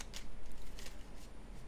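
A Moonology oracle card deck is shuffled in quick, crisp riffling bursts, several short flutters in a row, close and fairly quiet, with no talking.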